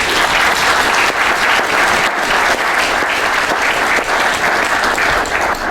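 Studio audience applause greeting two doctors arriving as guests for a televised debate on the Electoral College, sustained loud clapping from a full room, even and unbroken throughout with no voices on top.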